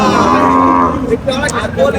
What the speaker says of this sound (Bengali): চৌগাছার রাত থেকে অনেক গরু উঠেছে অনেকেই গরু নেটছে